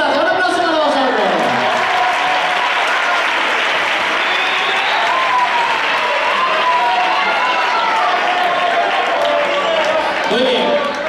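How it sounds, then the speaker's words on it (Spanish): Loud, continuous applause and cheering from a carnival audience at a comparsa contest in Jaén in 2016, with voices calling out over the sustained clapping. "Un aplauso para vosotros."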